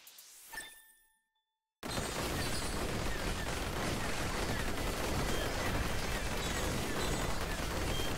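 Cannons fire in the Halo video game. A brief chime and a moment of silence give way to a loud, continuous roar of heavy fire that holds steady to the end.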